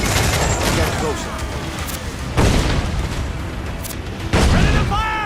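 Ship cannons from Captain Vane's vessel in the Assassin's Creed 4 Black Flag video game boom over a constant roar of sea battle, with two heavy blasts standing out loud and near amid shouting voices.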